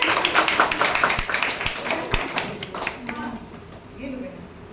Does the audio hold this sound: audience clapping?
yes